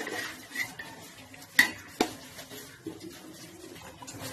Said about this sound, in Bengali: আজকে আমি পনির ফুলকপি রান্না করছি আর সাথে পোলাও রান্না করছি